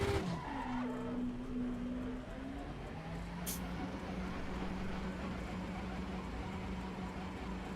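In the Assetto Corsa EVO racing game, a race car's engine drones at a steady pitch while its tires scrub and skid with a continuous hiss, moderately quiet and without talk.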